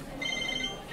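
A mobile phone rings with a steady electronic tone, held at a moderate level over a low background murmur.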